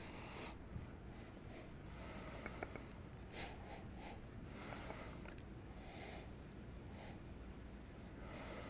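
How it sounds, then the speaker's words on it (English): Someone takes quiet, close sniffs of dry ground coffee at a cupping, several soft breathy inhalations over a faint, steady background hiss. "So I'm going to do a dry sniff."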